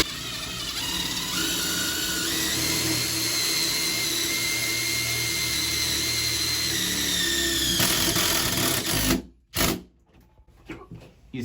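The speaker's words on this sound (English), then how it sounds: "Look how hard it is for when he has to screw in a new screw." A power drill drives a self-drilling screw into the metal of a commercial door for a closer, a loud steady whine that strains for about eight seconds, then cuts out in short bursts as the screw seats.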